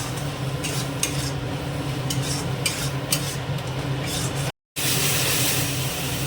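A spice paste of cumin, coriander and chilli powder is stirred and fried in a pan for a dhaba-style egg curry, giving a dense, loud sizzle with rhythmic scraping up close. It cuts out briefly, and no one speaks.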